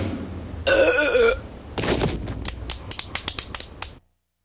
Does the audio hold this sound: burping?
yes